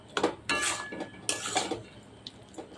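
Utensil scrapes and clinks in a pot as fried lentil dumplings (bori) are stirred into a spice-free vegetable curry after the gas is turned off, a few uneven strokes up close without speech.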